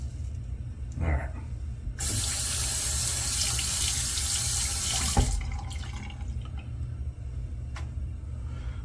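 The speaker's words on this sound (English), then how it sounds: "Gonna rinse off, come back up with a splash." A tap runs in a steady, loud rush for about three seconds while someone rinses off, with quieter clatter and faint handling sounds before and after the stream.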